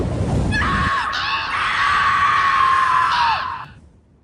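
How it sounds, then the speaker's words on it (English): Two voices scream together in a loud, sustained shriek lasting a few seconds, then trail off and fade. "Two friends scream,"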